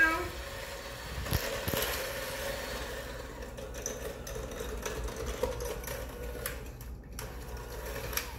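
An electric mixer blends vanilla cupcake batter in a bowl, giving a steady, fairly quiet motor whir with a few brief bumps and rattles along the way.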